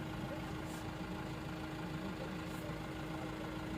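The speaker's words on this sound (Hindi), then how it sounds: "अब गाड़ी चला रहे हैं साईं जी।" A car engine hums steadily at a low, even drone as it is driven, continuous from start to end, with voices faintly in the background.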